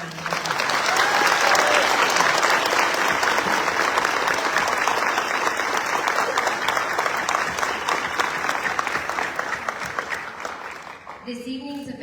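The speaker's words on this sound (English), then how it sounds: "Let's please give them another huge round of applause." A large audience at the Fort Cavazos family scholarship award ceremony gives awardees sustained, dense applause that stays full and loud for about eleven seconds, then thins toward the end.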